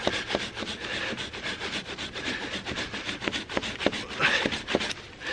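A tiny folding saw cuts through a piece of wood barely an inch thick, with steady back-and-forth rasping strokes at close range and sharp scrapes in a quick rhythm.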